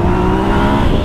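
A new motorcycle engine runs loud and close in a continuous low droning rumble on a potholed street in Londrina's south zone, with no talk.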